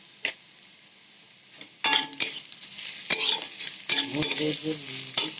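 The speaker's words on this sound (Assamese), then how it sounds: "হালধিখিনি অলপ ভাজি লওঁ" Onions and turmeric frying in a pan, with a soft sizzle beneath repeated sharp scrapes and clinks of a spoon stirring against the metal, loud and close.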